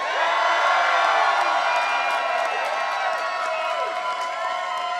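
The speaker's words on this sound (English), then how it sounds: "let's give Kamala another round of applause" A large crowd at a Philadelphia rally for Vice President Kamala Harris cheers, whoops and applauds loudly in a dense, sustained roar that fades slightly toward the end.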